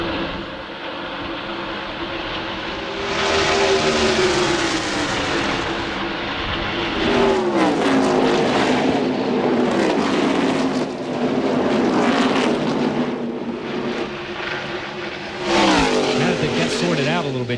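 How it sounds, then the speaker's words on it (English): NASCAR stock cars at the 1999 NAPA 200 roar past on the track one after another, a loud continuous engine wail with rising and falling Doppler sweeps as each car goes by. "See Jeff Gordon going by and taking the spot away from the 4 car of Jeff Purvis."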